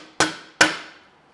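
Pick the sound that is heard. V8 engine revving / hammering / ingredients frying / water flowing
hammering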